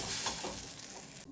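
Crushed fennel seeds are stirred in a hot frying pan, a brief close burst of sizzling hiss with a soft scraping stir that cuts off abruptly.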